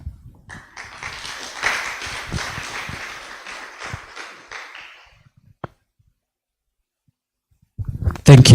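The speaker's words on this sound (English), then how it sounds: "Please give him another round of applause" Audience applause at a student mentorship forum, a dense, steady clapping that lasts about five seconds and then stops. A short silence follows, and then a loud burst of sound comes in at the very end.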